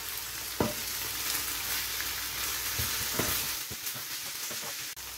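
Chicken liver sauce with mustard sizzles and fries in a pan while it is stirred, a continuous close crackle broken by occasional scrapes and knocks of the spoon against the pan.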